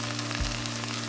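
A paste of ground coriander, whole cumin and dried chili fries in a pan for a banana flower and fish head curry, giving a soft, steady sizzle with a faint low hum beneath it.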